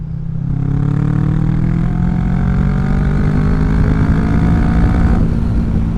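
Kawasaki Vulcan 650 S motorcycle with a CS Racing aftermarket exhaust accelerating at a little over half throttle on a ride to a mill pond lake; loud, close engine note rising steadily in pitch through the gears, no voices.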